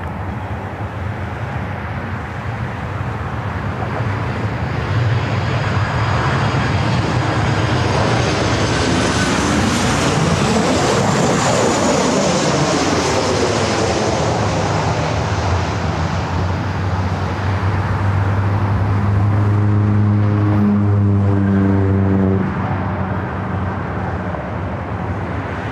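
Airplanes at Los Angeles LAX airport produce a loud, continuous jet roar that swells as aircraft pass close by, with a steady droning engine hum rising near the end and no talking.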